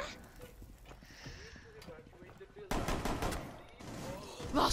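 Gunfire in Rainbow Six Siege: a burst of loud shots breaks in partway through, crackling over quieter game noise, with voices talking throughout.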